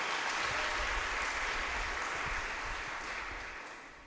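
A church congregation claps together in steady, dense applause during a worship service at a Catholic Charismatic congress, loud and sustained before tapering slightly toward the end, with no voices over it.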